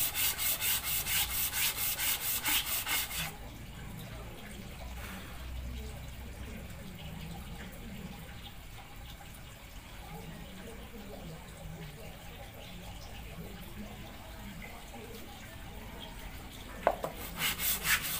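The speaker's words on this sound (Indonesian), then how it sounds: "Nah ini kita amplas terus menerus" Steady rubbing and scraping of sandpaper on a Honda Vario Techno scooter's metal radiator, continuous and close, with a louder burst at the start and a sharp knock near the end.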